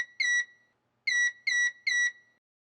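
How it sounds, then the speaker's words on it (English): A Midmark 626 exam chair gives a short electronic beep once, then after a pause three identical high beeps follow in a quick, even series. "The chair will emit 3 beeps."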